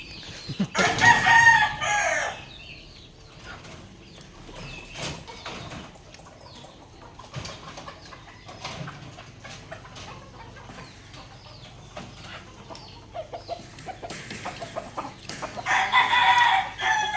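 Backyard hens clucking and a rooster crowing nearby, with loud bursts of crowing at the start and end and scattered clucks and rustling between, plus a few brief human voices.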